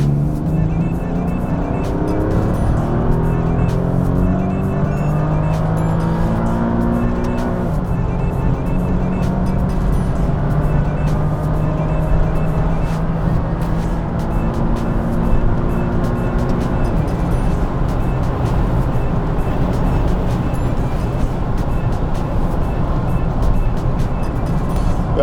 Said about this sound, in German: Okay, 3. Gang und dann geben wir mal Gas.